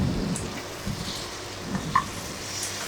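Chicken fry cooked without water being stirred in a pan, a soft sizzle under intermittent scraping and tapping of a spoon, close and moderately quiet, no voices.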